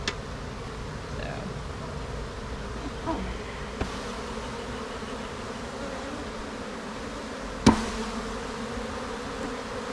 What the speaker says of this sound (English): this is a whole lot of bees.